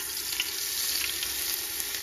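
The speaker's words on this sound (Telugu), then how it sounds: "కొద్దిగా అమూల్ బటర్ వేసుకున్నాం దోస్తులు." Amul butter melting and sizzling in hot white cooking oil in a pan, a steady, even frying hiss with faint crackle held throughout, no voices.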